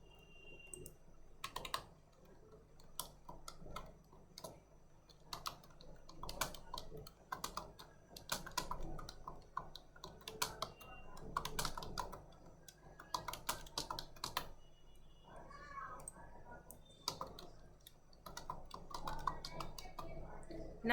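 Quick, uneven clicks of a computer keyboard being typed on come through close and fairly quiet, in irregular bursts with short pauses, with faint speech in places.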